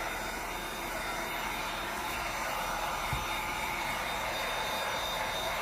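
A handheld dryer blows on a freshly painted farm charm craft, giving a loud, steady whirring hiss that runs unbroken for the whole stretch.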